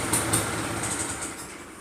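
An old Honda CB motorcycle idles nearby with a low, steady mechanical rumble and faint ticking, running evenly on its own.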